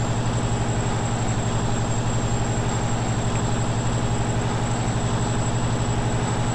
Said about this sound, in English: Love driving my truck.